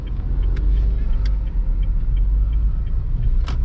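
A manual car idles and rumbles as it pulls out onto a main road with half clutch and a little throttle, a steady close low drone with a few faint clicks and no speech.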